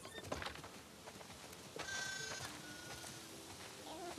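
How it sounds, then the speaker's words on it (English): Sheep on a farm in The Last of Us Part II give a faint bleat amid quiet outdoor game ambience, with soft rustling and a thin tonal cry midway. "Listen up, sheep. Your dinner awaits you in the barn, so come on."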